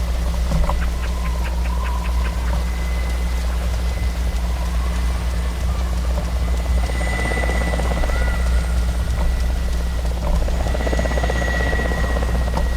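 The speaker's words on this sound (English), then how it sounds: "Chopper's still looking for me." A helicopter in the ArmA 2 Namalsk Crisis video game keeps up a steady, loud rotor drone through the whole stretch, with brief clicks and faint engine and combat noise over it.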